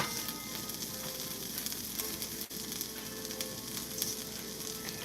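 Pepperoni for a homemade pizza sautés in a hot pan, giving a close, loud, continuous crackling sizzle with tiny spits and a brief clatter midway.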